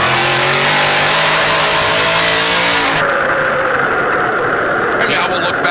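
Onboard engine of a race car running hard during a memorial race event, a loud continuous drone with shifting pitch and a gear change partway through, close and dominant throughout.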